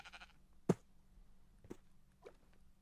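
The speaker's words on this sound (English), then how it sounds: "Sheep's in my way." Sheep bleating in the video game Minecraft, two or three short separate bleats spaced across a fairly quiet stretch, the first loudest and the later ones softer.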